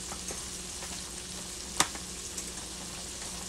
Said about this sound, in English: our water is boiling with our crackling